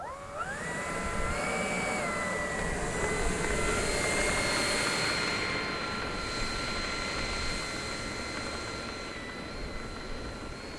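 An FMS Super Scorpion V2 90mm EDF model sport jet flies past, its ducted fan giving a continuous loud, high whine that rises and then holds steady, with a faint shift as it moves away.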